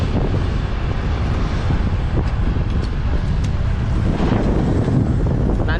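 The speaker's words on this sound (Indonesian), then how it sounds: "Angin lumayan hari ini." Strong wind buffets the microphone outdoors during a bicycle ride at a road junction near Purwosari, Pasuruan, Indonesia, a loud, continuous roar that never lets up.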